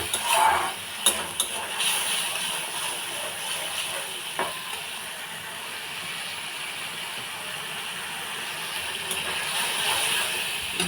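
Egg curry gravy sizzles and is stirred in a pan, with a continuous frying hiss. Scraping and clinking spoon strikes come in short bursts, loudest early on, then settle into a steady close sizzle.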